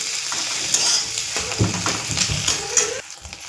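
A spoon scrapes and stirs chopped tomato with turmeric and spices in a hot pan for leftover fried rice, each stroke sounding over a continuous sizzle.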